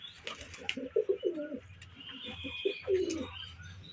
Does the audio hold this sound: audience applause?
no